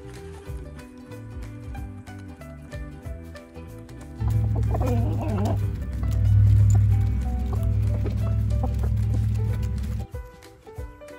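Chickens cluck in a barnyard, a loud, close run of repeated clucks and throaty calls in the middle, with quieter scattered clucking before and after.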